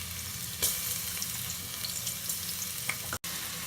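Ground cinnamon, cloves, cardamom, ginger and garlic hitting hot ghee for mushroom biryani, giving a steady close sizzle with a couple of brief sharp crackles and a stirring clatter near the end.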